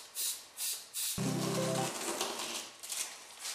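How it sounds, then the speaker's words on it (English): An airbrush lays light bursts of red paint, short soft hissing puffs repeating in a rhythm, followed by a longer steady spray with faint mechanical tone, all quiet and close. "just going to lightly dust this with red"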